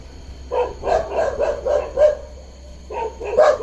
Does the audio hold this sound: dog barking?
yes